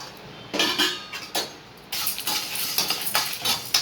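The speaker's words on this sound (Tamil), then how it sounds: "சும்மா வெறும் வானலில் போட்டு வறுத்துக்கலாம், எண்ணெய் இல்லாமல் வறுத்துக்கலாம்" Cumin seeds and pepper dry-roasting in a pan with no oil, a scraping, rattling stir with clinks of spoon on metal in repeated bursts, close and fairly loud.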